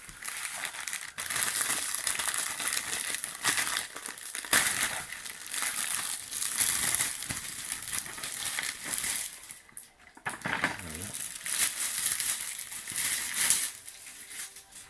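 Plastic wrapping around a Warhammer Conquest magazine issue from Hachette is torn and crinkled open, a steady crackling crunch lasting throughout, close and fairly loud, with a brief lull near the ten-second mark.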